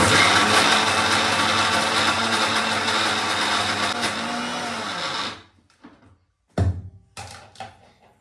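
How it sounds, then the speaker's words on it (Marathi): A mixer grinder whirs loudly and steadily for about five seconds blending cream, then stops, followed by a few clunks and knocks of the jar. "हे मलाई आपण याला मस्त मिक्सरमधून काढू"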